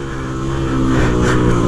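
A motorcycle fitted with a Polimet tin aftermarket exhaust revs hard and close, with a loud, raspy, sustained engine roar that climbs slightly in intensity with no pause across the short burst.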